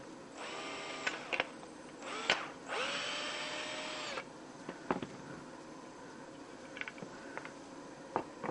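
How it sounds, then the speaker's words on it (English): A cordless power driver sinks screws into a pocket-hole joint held by a Rockler Pock-It Hole clamp, with several short whirring bursts and one longer run, each rising as the screw seats, close by and separated by quiet clicks. "go in and use your driver to put the screws in."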